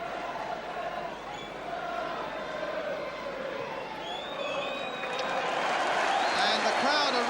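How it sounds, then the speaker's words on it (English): Football crowd at Stamford Bridge during a 1979 Chelsea versus Liverpool match, a broad steady roar of cheering and applause that swells louder toward the end, with whistles and voices rising out of the mass. "And the crowd are rising on that far side to Chelsea, and to Ron Harris, I suggest in particular,"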